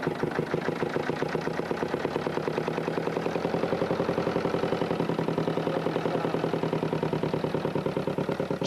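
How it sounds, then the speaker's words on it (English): An inboard canal boat engine fires and settles into a fast, even chugging beat as the flywheel spins, close and steady throughout with rapid regular pulses and no talk over it. "once the engine fires, then the flywheel will go round and this will freewheel."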